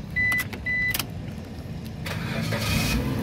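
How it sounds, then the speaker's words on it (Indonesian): A 2008 Suzuki Baleno 1.5 SX automatic has its engine started: two short electric whirs precede a brief cranking burst, then the engine catches and settles into a steady, moderately loud idle. "sekarang kita coba nyalakan mobil"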